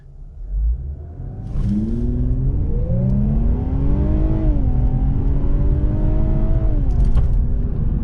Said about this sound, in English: let's give it a little acceleration